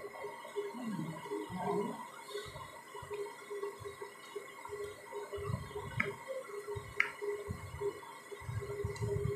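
A spoon works palm fruit batter and powdered milk together in a bowl for taler bora, making soft, wet, irregular slaps and low squelches with faint tapping, fairly quiet and with no talk.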